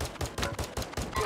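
Gunfire in the video game Call of Duty Warzone 2.0, a quick run of about six sharp, evenly spaced shots with a faint, fairly distant quality.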